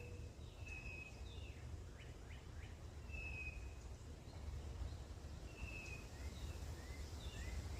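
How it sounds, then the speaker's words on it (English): Birds chirp and whistle in short, repeated calls against a faint, steady wind and rustling-leaf background in the jungle gardens on Avery Island, Louisiana; no voices. "you can just hear the birds and the wind and the leaves"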